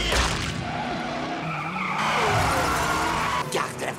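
Cartoon car tires skidding and squealing in a Ben 10 animated scene, a sustained screech with sweeping tones lasting several seconds, loud and close, with voices talking over it.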